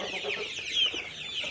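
Month-old chicks kept indoors at room temperature cheep and cluck continuously in a close, dense chorus, with no talking.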